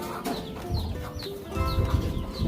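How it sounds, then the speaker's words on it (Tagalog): A large chicken of good breed clucking nearby in short, repeated bursts with faint chirping bird calls around it, quiet and close. "Malaking manok."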